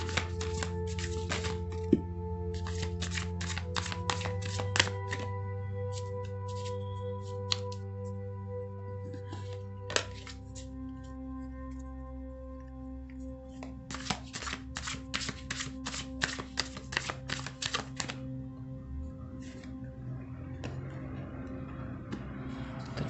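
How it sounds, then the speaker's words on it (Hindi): Tarot cards being shuffled by hand, close and crisp, in repeated bursts of riffling clicks and flutters over a steady low drone throughout. "अब मैं आपके कार्ड शफल कर लेता हूँ।"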